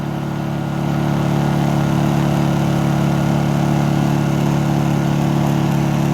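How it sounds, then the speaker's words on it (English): A Honda generator on a farm runs with the economy throttle switched off. Its engine climbs to a higher speed in the first second, then holds a loud, steady drone with no talking. "Now if we take the economy throttle off, you'll hear it rev up."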